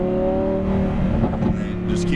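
A Lamborghini Huracan Performante's engine drones at high revs on a racetrack, a loud, steady tonal roar heard from inside the car as people talk over it.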